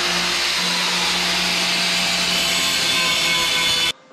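A power tool cuts out the speed bump in a car's floor pan with a loud, continuous, gritty whine that holds steady for about four seconds and then stops abruptly.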